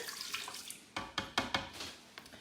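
Half a cup of water poured while making the wet mixture for a vegan buffalo chicken sandwich, heard as a quick run of splashy, trickling bursts close by in a quiet kitchen.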